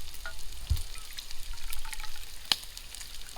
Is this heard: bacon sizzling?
yes